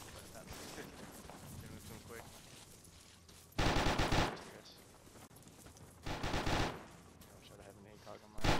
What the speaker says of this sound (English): I can hear a heavy machine gun somewhere